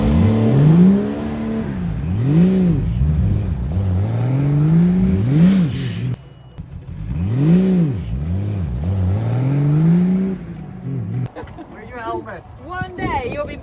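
A Warrior Dakar T1 rally car engine revs hard and close through repeated rising and falling acceleration sweeps, briefly drops off near the middle, then climbs again before easing to a rougher idle with lighter background noise.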